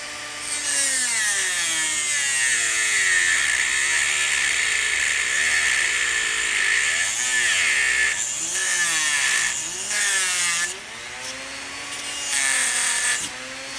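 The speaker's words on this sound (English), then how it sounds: "Once you have made the first cut, just go back in and grind out the rest of the material like this." An angle grinder with a cutting disc slices into material and then grinds out the remainder, a loud continuous high-pitched whine with shifting pitch as the load changes, briefly easing near the end before resuming.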